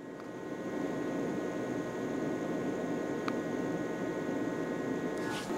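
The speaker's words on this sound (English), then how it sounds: "here's the sound of another power station that I have." Another portable power station runs with a steady, somewhat louder electrical hum and fan drone, close and continuous, with a couple of faint brief clicks and no speech.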